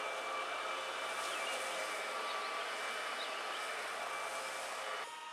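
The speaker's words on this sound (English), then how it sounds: "But you can see it's moving the grass, just not what you would expect with a backpack blower itself." A Ryobi 40 volt battery backpack leaf blower runs outdoors, giving a steady, fairly faint airy whoosh with a thin electric whine that holds evenly, then cuts off abruptly near the end.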